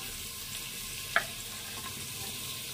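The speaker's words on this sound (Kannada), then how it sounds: "ಆನಿಯನ್ ಚೆನ್ನಾಗಿ ಫ್ರೈ ಆಗಬೇಕು" Onions and chilli frying in a pan with ghee, a steady soft sizzle throughout with one brief clink of a utensil near the middle, no voices.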